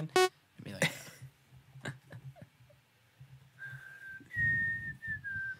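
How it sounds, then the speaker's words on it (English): A person whistles a short, shrill tune, a clear sustained note that holds and then slides down, coming in after a sharp whistle and scattered coughs, breaths and brief noises nearby. "can you give us that whistle again?"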